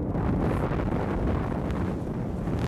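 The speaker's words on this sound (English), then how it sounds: "Wind's blowing pretty good today, probably about 35 miles an hour." Strong wind, around 35 mph, roars steadily across a microphone at a wheat-farm wind turbine site in sleet and snow, with a dense, constant low rumble and no talk.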